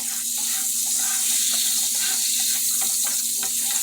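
Bacon and bologna frying in a pan make a steady, dense sizzle with small crackles and pops running throughout, heard close and alone with no talking.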